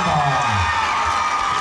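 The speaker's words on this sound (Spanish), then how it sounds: "Y ese recuerdo es el aplauso de este bellísimo público." Jaripeo crowd in an arena cheering and clapping, a dense wash of applause and shouts filling the space, loud and close, with some voices rising above it.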